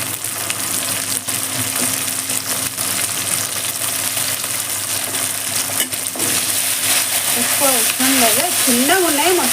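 Fenugreek leaves fry in a pan for tomato dal, a continuous close sizzle with faint stirring scrapes throughout. A few whistling tones rise near the end.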